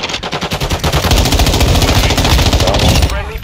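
Rapid automatic gunfire from the video game Warzone 2, loud continuous bursts of shots close up filling the whole stretch, with game sounds behind.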